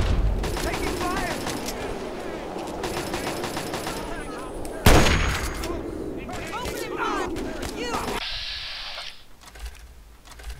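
Gunfire in the video game Fallout 3, rapid automatic bursts and single shots over a busy game soundscape, with one loud close blast midway, then fading to quieter effects.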